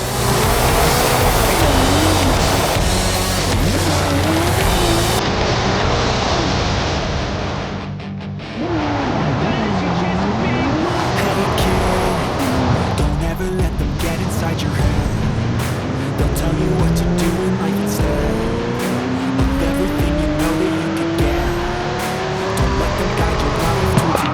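Car drifting in Forza Horizon 5 on a Mexico drift course, with tyres squealing in long rising and falling screeches over a loud, steady engine roar for the whole stretch, punctuated by a brief dip.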